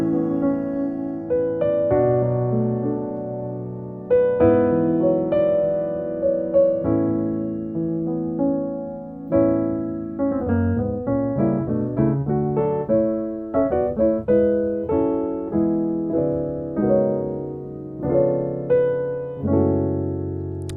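Solo piano plays rich gospel jazz chords of the Above All chorus, a slow sequence of sustained, ringing voicings with moving inner notes and clear attacks, heard alone at close range.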